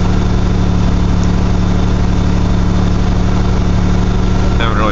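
The carbureted engine of a 1982 GMC S-15 pickup idles while warming up from a cold start at 35 degrees, a loud, steady, close rumble that runs throughout without a break.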